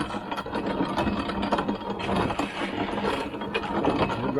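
Hand-cranked grinder milling slightly damp corn in an old-fashioned setup, giving a steady, dense grinding rasp with a rhythmic ratcheting churn, continuous and close throughout.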